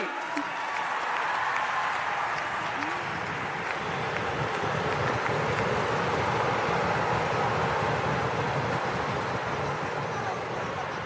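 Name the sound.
audience applause for Nagpur dhol troupe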